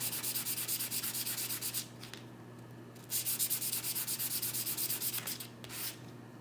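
Hand sanding of a silver metal clay pendant to remove tarnish, a steady rapid scratchy rubbing in close strokes, pausing briefly twice before resuming, with no talking.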